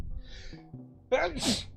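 A single close, sharp sneeze bursts out after a brief quiet intake of breath, over a faint steady background hum.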